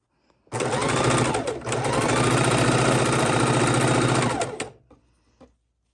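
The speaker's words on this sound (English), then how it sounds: "And we are going to chain stitch these." A sewing machine chain stitches quilt blocks in one loud, steady whirring run lasting about four seconds, with a brief dip near the start, then stopping.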